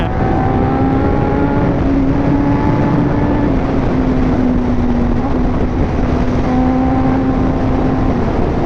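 A Suzuki GSX 1000cc motorcycle engine runs loud and close, with a steady droning hum whose pitch barely wavers and only slight rises and falls throughout.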